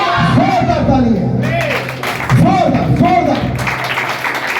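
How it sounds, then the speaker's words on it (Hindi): A church congregation breaks into loud clapping and cheering during a sermon, a dense crowd roar heard with a voice calling out over it. "जोरदार तालियां"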